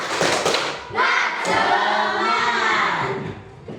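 A class of students performs the 'tepuk semangat' clapping chant, with rhythmic claps and chanted voices together in a classroom, loud and close, lasting a few seconds.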